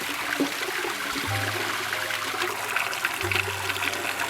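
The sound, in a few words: tap water running for an AquaVac aquarium water change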